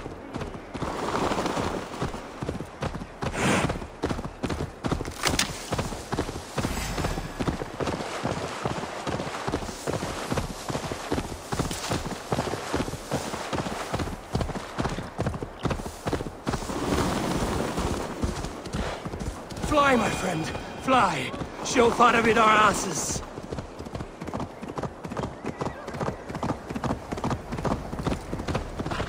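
Rapid horse hoofbeats clatter in a steady galloping rhythm throughout Assassin's Creed Valhalla gameplay, with a voice speaking over them and a brief neigh partway through.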